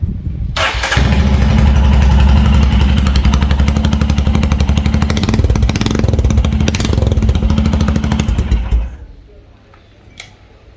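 Royal Enfield Scram 411 motorcycle fitted with a Powerage performance exhaust, its engine catching and settling into a loud, close, lumpy idle for about eight seconds before cutting off into near quiet.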